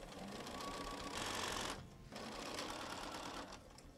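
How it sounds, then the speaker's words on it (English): A sewing machine runs steadily, stitching rows of a potato chip quilt block, with a brief pause around the two-second mark before the whirring stitching resumes, close and fairly loud. "I always start it, do a few stitches, and then align everything."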